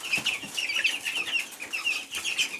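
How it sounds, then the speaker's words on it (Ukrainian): Broiler chickens on a small home farm cluck and chirp continuously, a dense chorus of overlapping bird calls at moderate distance with no talk. "Ну, ось такі гарненькі бройлери."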